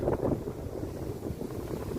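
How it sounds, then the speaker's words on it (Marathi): Strong wind during extreme rainfall in Kolhapur roars and buffets the microphone in a continuous, low rumbling gust. "एवढा भयानक वाऱ्याचा जोर आहे"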